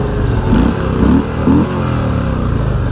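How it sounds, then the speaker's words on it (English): Stock exhaust of a 2024 Harley-Davidson Softail Standard motorcycle rumbles at idle, punctuated by three short throttle blips that rise and fall in quick succession, loud and close. "Not bad exhaust. You can do a lot worse from stock."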